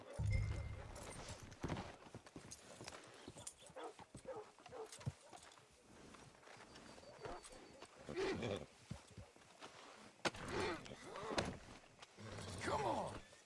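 Horse hooves clip-clop in Red Dead Redemption 2 as a rider pulls up at a hitching post, a steady run of soft, close hoof knocks over faint outdoor ambience, with brief voices and animal calls mixed in.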